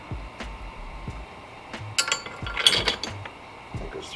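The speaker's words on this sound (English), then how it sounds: "Then we're going to take the washer and the nut." Small metal clinks and ratcheting clicks as a washer and nut are handled while fitting a bolt for an engine guard on a Royal Enfield Continental GT or Interceptor motorcycle, close and fairly quiet, with a brief busier burst of metallic rattling midway.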